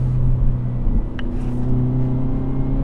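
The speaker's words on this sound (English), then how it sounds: "So now this is no piped in sound, just exhaust and motor." Steady low engine drone with a deep exhaust rumble from a 2023 Hyundai Elantra N, holding a constant idle-like tone throughout, close and loud, no voices.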